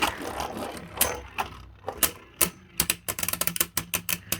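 Hasbro Beyblade Balkesh B3 spinning tops clash in a plastic stadium, giving sharp, rapid clicking and clacking impacts, sparse at first and then dense bursts of hits toward the end, close and loud.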